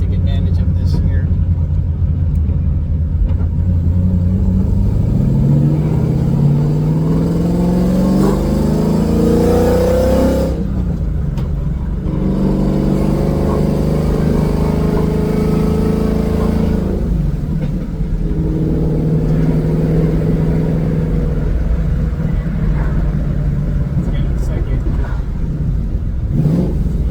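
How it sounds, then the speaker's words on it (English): A Coyote-swapped Shelby GT500 with a T56 gearbox roars loudly from inside the car, its engine climbing through high revs and dropping at each clutchless shift, with repeated pulls and brief dips, while someone talks over it. "it's weird to downshift without the clutch"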